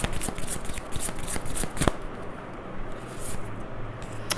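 Tarot cards are shuffled up close in a rapid, rhythmic riffle of crisp flutters that stops after about two seconds, followed by quieter handling.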